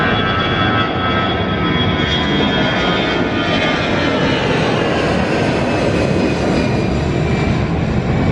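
An EasyJet airliner takes off for Naples, its engine roar loud, broad and steady throughout with a rising whine, heard from nearby with no talk.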